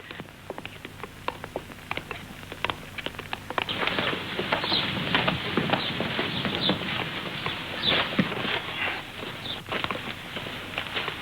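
Horse hooves clip-clop on a hard surface at a walking pace, with steady outdoor noise and a few faint bird chirps in the background.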